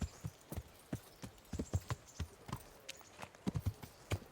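Rhythmic clip-clop of horse hooves trotting at a steady pace, fairly quiet and close, with no talking.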